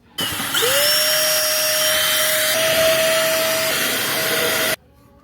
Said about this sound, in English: No, I'm gonna use the vacuum. Let me just use the vacuum.